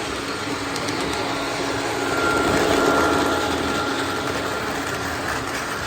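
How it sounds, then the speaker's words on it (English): A model train layout runs at a train shop, giving a steady, continuous mechanical rolling hum at moderate loudness with no talking. "it's cool to see Dave's train layout going"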